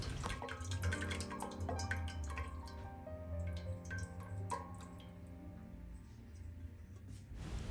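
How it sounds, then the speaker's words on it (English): Gizzard stock is strained into a pot as a soft, close stream of liquid that trickles and drips unevenly, faint and with no talk over it. "going to be straining the stock from our gizzards into the pot"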